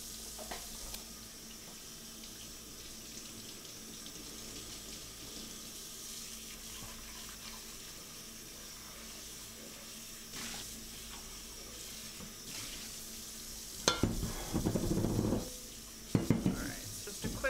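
Water runs steadily from a tap into a kitchen sink while washing up after baking brownies, with clinks and clatter of dishes toward the end.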